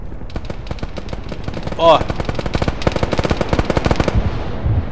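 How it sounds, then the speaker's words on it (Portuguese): Rapid automatic gunfire in the military shooter ArmA 3, a dense, loud stream of sharp shots for about four seconds before it cuts off, with a brief spoken word from a player partway through. "Olha o que o cara tá atirando, dá pra ver daqui, ó."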